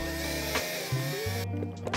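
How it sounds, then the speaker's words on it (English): A driver with a T30 bit works on the axle bolts of a Onewheel Pint electric skateboard, giving a brief close mechanical whir with shifting pitch and a few clicks. "now you want to take your T30 bit and remove these"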